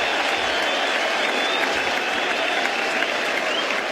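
A cricket stadium crowd applauds in a steady, dense wash of clapping that holds at an even level throughout, with a faint murmur of voices mixed in.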